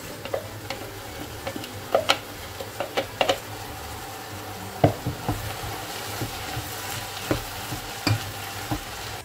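Oil sizzling in a pan of meat sauce with thyme, basil and chopped onion once the water has cooked off, a steady crackle punctuated by sharp taps of a spoon stirring against the pan.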